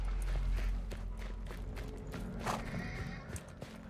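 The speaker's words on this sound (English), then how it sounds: "Ooh. Horses." Horses in the video game Weird West whinny and neigh with clip-clopping hooves, a loud neigh rising near the middle over a steady low rumble of game ambience.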